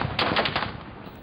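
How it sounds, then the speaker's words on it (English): A rapid burst of several sharp gunshots at a protest, loud and close together, followed by a fading echo. "the gunfire gets much closer"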